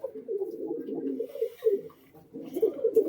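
Giribaz pigeons cooing close by, with soft, overlapping low throaty coos that run almost continuously, easing off briefly before swelling again.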